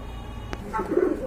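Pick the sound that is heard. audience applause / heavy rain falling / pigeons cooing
pigeons cooing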